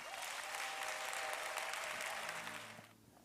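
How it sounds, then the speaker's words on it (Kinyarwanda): A church congregation claps together in strong, steady applause that fades out toward the end, followed by a faint voice. "Tuyikomera amashyi"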